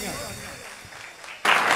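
Talk fills the first part, then a sudden burst of audience applause for Ali Faraz breaks out near the end at the Folk Studio Season 1 launching ceremony.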